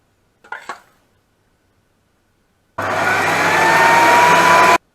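An electric mixer whirs steadily for about two seconds while beating cake batter, loud and close, after a brief clatter of utensils and a stretch of silence.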